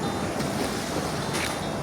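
Sea waves wash along the shore at Pranburi, Thailand, as a continuous loud hiss of surf mixed with blustery wind buffeting the microphone. No voices are heard.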